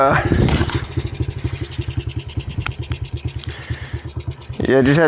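Close dirt bike engine idling at a raised idle, a quick uneven putter with clattering beats, while someone talks over it.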